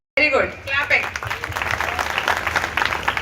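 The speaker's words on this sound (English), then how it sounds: "Clapping." An audience at a talk or interview session breaks into applause, a dense spread of claps rising right at the start and holding steady for a few seconds while a voice speaks briefly over the opening.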